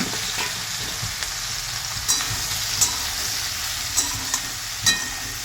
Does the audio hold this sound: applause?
no